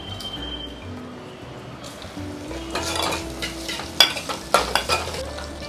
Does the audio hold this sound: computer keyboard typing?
no